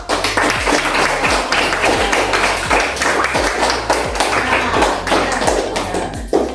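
A group of second-grade schoolchildren in a classroom claps together in a steady, rhythmic beat, loud and close, with a low thumping underneath each clap.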